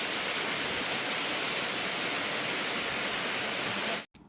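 Rimbi Falls, a waterfall near Pelling in Sikkim, gives off a loud, steady broadband roar of falling water that holds constant for about four seconds before a brief cut, with no voices.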